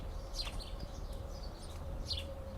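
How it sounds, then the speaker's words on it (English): Faint bird chirps come and go outdoors in a park on Roosevelt Island over a steady low rumble and a constant tone, a few short calls spaced apart. "you hear the birds chirping"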